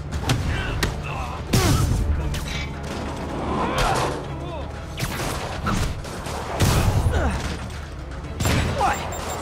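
Rockets explode around Spider-Man in the superhero game, a series of sharp thudding blasts and crashes spaced a second or two apart, mixed with mechanical clatter and a voice talking between the hits.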